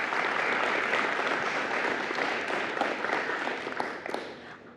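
A crowd at a school board meeting applauds girls' wrestling state qualifiers with steady, dense clapping that stays loud and even before easing off slightly toward the end.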